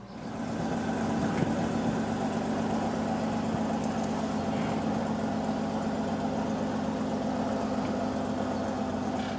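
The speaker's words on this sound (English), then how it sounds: "we're now ready to bring the vehicle back" A vehicle engine idles steadily while backing up to a trailer hitch, a continuous low humming drone with a droning tonal rumble and faint rattles, no voices.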